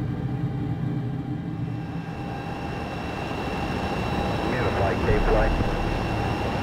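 The Darkstar jet climbs in Microsoft Flight Simulator with a steady, loud engine roar and a rumbling drone that holds throughout and swells slightly near the end, while people talk over it.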